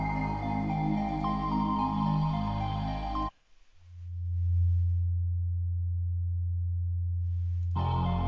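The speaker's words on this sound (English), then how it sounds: "what I like about a sine wave is it goes with anything." A steady, pure synthesized sine tone hums low and alone for several seconds, after a brief gap following a busier musical passage.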